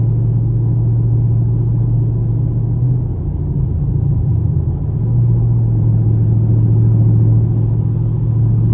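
Honda Civics driving fast at a Caffeine and Octane car meet in Atlanta give off a loud, steady low engine rumble that drones on throughout with a slight swell in the middle.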